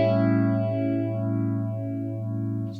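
Sustained guitar chord through a phaser set to a mid-range rate, its sweeping notches rising and falling slowly about three times, loud and alone.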